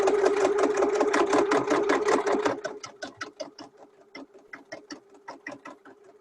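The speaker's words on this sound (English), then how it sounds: "I'll come back in and add a second row of stitching at the handles" A sewing machine stitches through thick fabric and batting on tote bag handles, a loud, fast rhythmic chatter that slows to separate, spaced stitches partway through, close and unaccompanied by talk.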